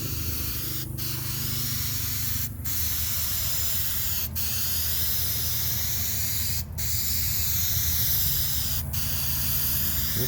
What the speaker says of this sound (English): This isn't ultimate weather for painting a car, trust me. Especially by spray can.